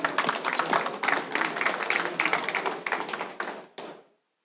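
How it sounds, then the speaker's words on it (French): Warm audience applause for the best apprentices at a round-table event, a dense burst of many hands clapping close and steady before tapering off and stopping abruptly. "Je pense qu'on peut encore une fois les applaudir."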